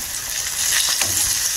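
Pork chops sizzle and crackle steadily in hot oil, with a brief soft stir partway through.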